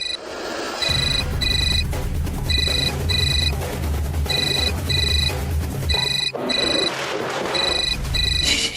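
A phone rings in repeated short electronic bursts, loud and close, over a low background rumble.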